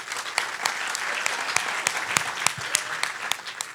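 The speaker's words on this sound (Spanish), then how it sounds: "Un aplauso para ustedes por venir." A theatre audience applauds warmly, a dense sustained clatter of many hands with scattered sharper claps standing out, close and fairly loud from start to finish.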